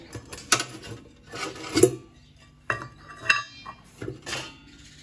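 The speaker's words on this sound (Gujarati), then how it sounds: "હવે નાખશું કડાઈમાં તેલ" A metal kadai and utensils clatter and scrape while oil goes in for frying bhajji, a handful of sharp separate clanks and rubbing sounds spaced out over a few seconds, close by, with quiet gaps between and no voices.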